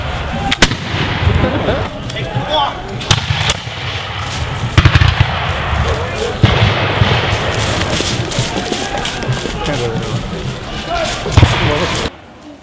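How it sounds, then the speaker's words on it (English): Musket volleys boom in a Patriots Day reenactment in Concord, several sharp loud reports scattered across the scene among crowd shouting and voices, with a final close blast before it cuts off. "Good volley, lads."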